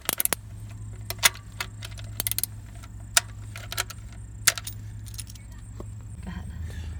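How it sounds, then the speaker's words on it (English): Socket wrench loosening the oil pan bolt on a 2016 Toyota Corolla, heard as several sharp metallic clicks and clinks scattered over a steady low hum, close by with no talk. "I've cracked the oil pan bolt here loose with the socket wrench"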